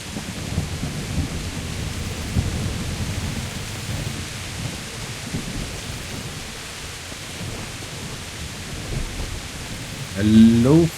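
Thunderstorm in the medieval game Kingdom Come: Deliverance, a steady low rumble of thunder and rain noise throughout, with a louder swell near the end.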